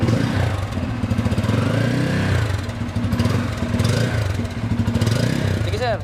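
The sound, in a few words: Bajaj Pulsar N250 motorcycle engine revving, dual exhaust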